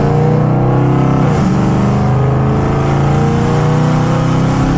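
Car engine accelerating on a neighborhood street after a homemade patch over a hole in the exhaust, a loud, steady engine drone and exhaust note that rises briefly with revs, heard close up with no voices.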